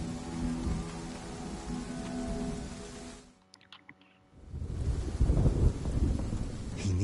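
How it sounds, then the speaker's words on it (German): Rain hisses steadily inside a video game, broken by a brief near-silent gap before the downpour returns heavier and louder, with low rumbling like thunder beneath. "Wie es direkt auch noch regnet"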